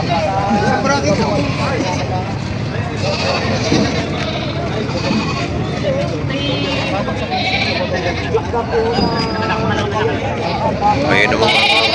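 Goats bleat at a busy livestock market, several animals calling over a constant crowd murmur and close talking, loud and continuous throughout.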